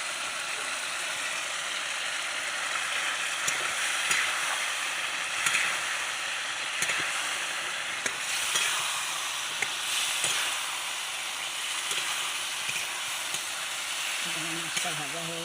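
Fish fries in hot oil in a pan with spices, giving a steady, close sizzle with scattered clicks and scrapes of stirring throughout.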